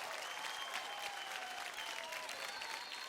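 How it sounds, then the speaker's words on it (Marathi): An audience at a televised dance competition claps steadily after an aerial act on stage, a continuous wash of applause heard at a distance. "जोरदार टाळ्या होऊन जाऊ द्या"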